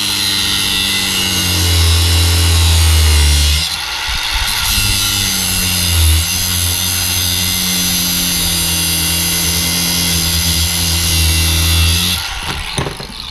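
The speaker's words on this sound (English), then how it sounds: "Nothing like a nice little cutoff wheel." A cutoff wheel grinds through a Fox Performance shock part from a Jeep TJ with a loud, sustained whine rich in harmonics, dipping briefly twice as the cut pauses and resumes.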